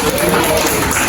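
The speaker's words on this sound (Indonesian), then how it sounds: "tepuk tangan dulu" Classroom applause during a science lesson on electricity: a dense, steady patter of many hands clapping together for just over a second, fairly loud and close.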